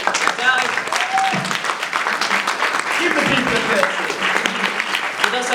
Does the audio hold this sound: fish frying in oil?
no